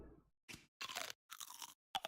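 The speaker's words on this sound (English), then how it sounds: "Oh, nice crunch." In the video game Fable III, a crunching sound comes as a short faint noise followed by four distinct crisp crunches in an uneven, chewing-like rhythm, close and dry, separated by silence.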